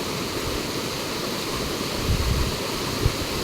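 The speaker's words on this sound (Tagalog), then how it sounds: "Yan yung ilog." River flowing through woodland, a steady broadband rush of running water with a few low knocks and splashes, heard alone without talk.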